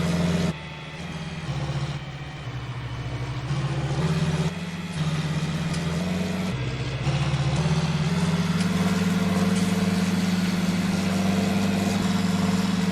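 A tractor engine idles in Farming Simulator 19 with a steady low drone whose pitch steps up and down several times, sounding oddly tonal, close and fairly loud throughout with no talk.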